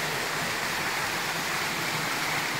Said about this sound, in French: Avec de nouvelles cascades, plus petites